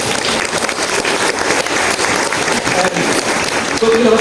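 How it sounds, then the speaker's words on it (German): An audience at a children's music theatre show claps loudly and steadily for the child performers, a dense wash of applause with a voice faintly audible near the end. "Applaus bitte für die Kinder."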